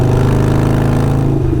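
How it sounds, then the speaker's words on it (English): A Harley-Davidson Sportster 48 bobber with a 1200cc engine and Kinetic 540 Laterals exhaust idles close up with a loud, steady, throbbing rumble and evenly pulsing exhaust beats. "Kinetic exhaust, 540 laterals on a Harley-Davidson Sportster 48, which is a 1200cc engine"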